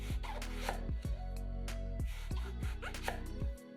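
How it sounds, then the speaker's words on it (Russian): A knife slices medium eggplants into rounds, making a series of about eight crisp, evenly spaced cutting taps on a board, close and clear over soft background music. "2 средних баклажана моем и нарезаем кружочками"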